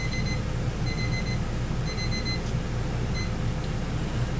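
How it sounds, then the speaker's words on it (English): Kitchen timer going off in an RV kitchen, repeated bursts of high beeping in a steady rhythm over a low background hum, fairly loud and with no talk. "oops, my timer"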